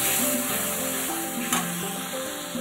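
Spice masala with kasuri methi and whisked yogurt sizzles steadily in a pan, a close, even frying hiss with faint stirring and a brief scrape midway, and no voices.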